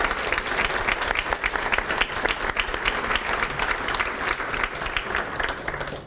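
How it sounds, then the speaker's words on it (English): At a Rotary Club volunteer recognition gathering, an audience claps warmly for board members, a steady, even round of applause with crisp individual claps, moderately loud and sustained throughout. "Could we have a warm round of applause for the board members?"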